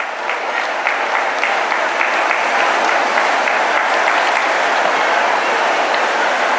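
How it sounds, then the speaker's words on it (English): A crowd at a live national women's business fair claps for a seven-year-old boy called onto the stage, the steady, dense applause staying loud and close for several seconds with no speech. "Can we please have the 7 years old Arjun Das on the stage with a huge round of applause"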